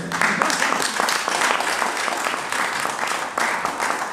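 Sustained audience applause for two women at a press conference in Brussels, many hands clapping in a continuous, moderately loud burst that carries through to the end.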